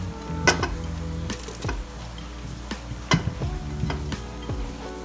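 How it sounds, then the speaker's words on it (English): Chopped vegetables tipped back into a hot pan of deglazed katsu curry base, crackling and sizzling with a few stirring scrapes and soft clinks of utensil on pan, fairly close and steady. "I'm just going to add all the vegetables back in"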